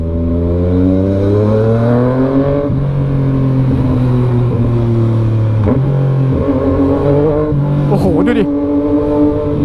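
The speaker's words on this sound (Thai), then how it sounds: "เสียงชิปเตอร์ที่ค่อนข้างจะเป็นเอกลักษณ์อะ เสียงชิปเตอร์มันดังแบบมันดังแบบปั้งแบบ" A Yamaha MT-09 motorcycle with traction control off revs hard close by, its engine note climbing in long sweeps that drop sharply at each quickshifter gear change, with popping cuts near the end.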